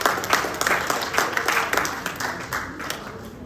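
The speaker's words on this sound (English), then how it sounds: "Let's give everybody a round of applause for coming here tonight." An indoor crowd at a North Miami mayoral candidate forum applauds, with dense, steady clapping that holds fairly loud throughout before gradually thinning toward the end.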